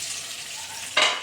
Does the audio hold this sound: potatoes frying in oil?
yes